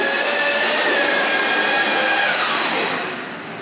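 A dust vacuum used for indoor concrete grinding runs with a loud, steady broadband roar and whine, easing slightly in level near the end, with no talking.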